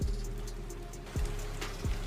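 Steady rain falls in an animated story set in a forest at night, a continuous soft patter with a few brief louder drops and low rumbles over the hiss.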